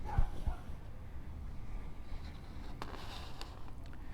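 Faint, distant dog barks, a few sharp yaps scattered over a quiet, noisy background.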